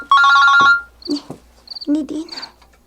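A cellphone rings with a bright, repeating electronic ringtone, loud and close at first, then short beeps continue while people talk over it.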